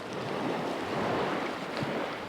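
Sea waves break and wash along the shingle shore of Chesil Beach, a continuous surging rush with wind noise across the microphone and no voices.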